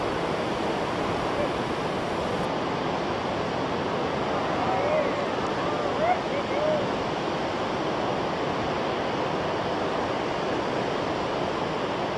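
A big ocean swell sends waves and surf crashing in a continuous broad wash of noise that holds steady and fairly loud throughout, with no talking.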